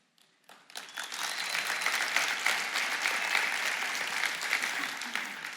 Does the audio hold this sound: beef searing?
no